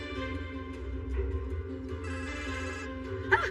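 A mobile phone ringtone plays steadily in a room: a sustained electronic melody with layered tones, moderately loud and close, ending in a brief brighter chirp near the end.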